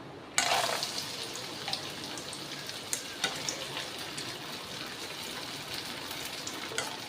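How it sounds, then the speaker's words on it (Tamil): Leftover-rice vathal crisps go into hot oil in a pan and set off a sudden burst of sizzling and bubbling, which then settles into a steady fry with small crackles and pops, close by and with no voices. "இப்போ நம்ம வத்தல் ரெடி பண்ணி வச்சோம்ல வத்தலை பொறிச்சு எடுத்துக்கலாம்"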